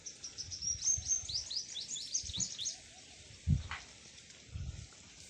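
Sparrows chirping in quick, busy bursts at first, then fading, with a few dull low thumps nearby.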